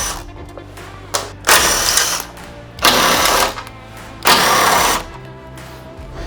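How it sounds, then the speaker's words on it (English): An impact wrench rattles in three loud bursts, each lasting about a second, as it removes Torx IP40 bolts from a 2021 Ford Bronco bumper, with quiet pauses between bursts. "So we're gonna use our impact right now to get these off."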